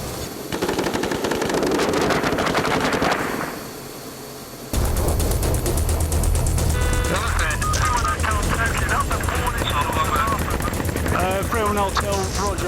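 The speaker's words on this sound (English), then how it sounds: "our warning shots being fired now" Machine-gun warning shots are fired in Afghanistan, rapid loud bursts of automatic fire crackling close by with men's radio chatter and talk in the background.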